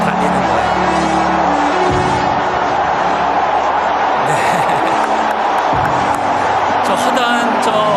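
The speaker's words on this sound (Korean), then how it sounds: "저 허다한 저 증인들이 박수치는 게" Crowd of race spectators cheering and clapping throughout, a dense continuous roar with scattered whoops and a few louder bursts near the end, heard under someone speaking.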